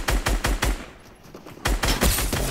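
Rapid automatic gunfire in a video game, aimed at bringing down a tree, loud close bursts with a brief pause in the middle.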